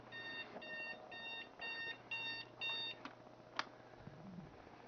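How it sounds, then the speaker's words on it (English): An alarm clock rings indoors in short repeating bursts of high electronic beeps, fairly faint against a steady low hum, followed by a few isolated clicks and a brief low rumble. "my alarm clock's ringing"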